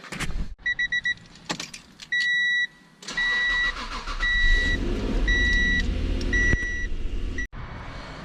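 An Acura NSX in a shop, heard as repeated electronic beeps and chimes with the whir of power windows, then the engine starting and idling with a steady low rumble close by.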